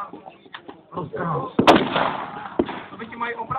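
Outdoor battle reenactment at Sedlnice, Germans against Soviets, with Mark 36 fire: scattered crackling shots, one loud close bang in the middle and another sharp report after it, over rumbling background.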